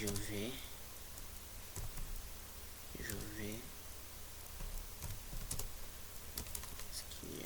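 Keys are struck on a computer keyboard in quick irregular bursts of close clicks, typing text in Microsoft Word under a person's speech.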